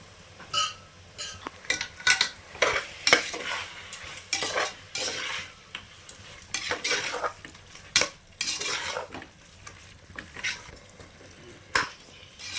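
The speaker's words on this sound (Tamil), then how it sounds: "இதை வதங்குறதுக்கு வேண்டி நான் கொஞ்சமாக கல்லுப்பு சேர்த்துக்கிறேன்" Onions with rock salt being sautéed in a pan for Bangalore-style vegetable biryani, heard as repeated clinks and scrapes of a metal spoon stirring against the pan over a faint sizzle, with no talking.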